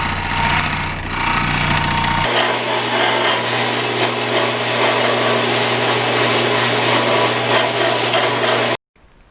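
A power tool blade cutting a thick carbon fiber plate made with West Systems resin, a loud, continuous high-pitched grinding whine after a short lower-pitched start, stopping abruptly near the end.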